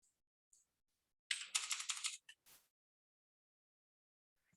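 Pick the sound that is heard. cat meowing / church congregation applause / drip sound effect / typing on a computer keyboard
typing on a computer keyboard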